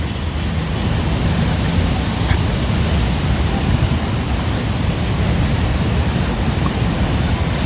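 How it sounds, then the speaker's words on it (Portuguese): Rough sea waves breaking in the rain at Copacabana beach, a loud, steady wash of broadband roar with no break and no voices. "o mar está bem agitado."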